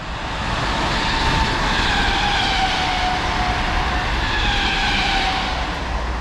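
A Class 325 mail train pulls into a station on the line between London and Rugby, giving a loud, steady mechanical roar with a faint tonal whine throughout, heard close and alone without voices.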